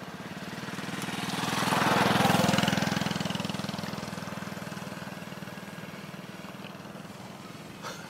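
A DJI Ryze Tello mini drone with its propeller guards removed hovers outdoors in wind, giving a steady, buzzing propeller whine. It swells louder for a moment as it passes closer, then settles into a constant drone.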